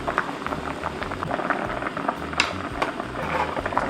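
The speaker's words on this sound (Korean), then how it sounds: "무 뭐 익을 때까지 좀 끓여줄게요" A pot of radish and fish cake soup boils steadily close by, a continuous bubbling and rolling simmer with small pops and gurgles and no talking.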